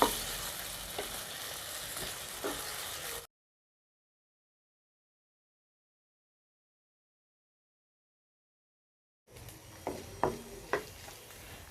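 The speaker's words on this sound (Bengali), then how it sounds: "এখন সব কিছু ভালো করে মিশিয়ে 8 থেকে 10 মিনিট ভেজে নেব।" Spicy pasta mixture frying and being stirred in a pan, a close, steady hiss of sizzling with soft stirring scrapes, cut by a long silent gap before the sizzle returns with a few utensil knocks.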